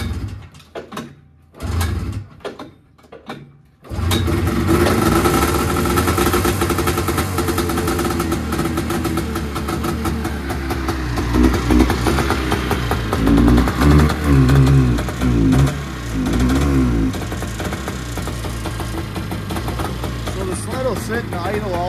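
A Yamaha snowmobile with a TORS throttle fault first sputters as it is started, then idles steadily and loudly nearby, with several throttle blips that rise and fall but fail to build full revs.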